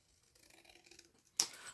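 Scissors cut paper for a small papercraft notebook cover: faint soft rustling leads into one sharp, close snip near the end.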